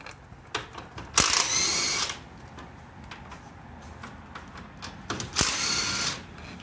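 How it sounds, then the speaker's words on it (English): An impact wrench removing brake caliper bolts, firing in two loud bursts of rattling hammering about a second long each, with quieter metallic tool clicks and handling between them. "Obviously use an impact for everything, for speed and power."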